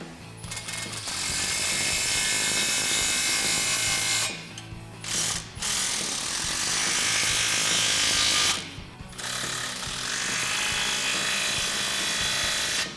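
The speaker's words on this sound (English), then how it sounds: "you can tighten down all the clamps on this side. For that, you're going to need a 15mm deep socket" A ratchet on a 15mm deep socket tightens exhaust clamps on a 2014–2018 Silverado or Sierra fitted with a Magnaflow dual side-exit system, producing fast, close clicking runs with a few brief pauses.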